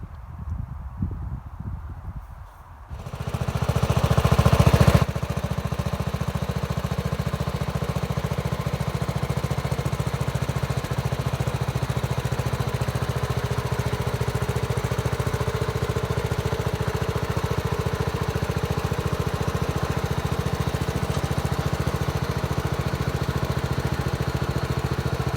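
A 1960 Bolens Rhinomatic garden tractor engine starts up and runs at a steady, loud, even drone for over twenty seconds, with no talking.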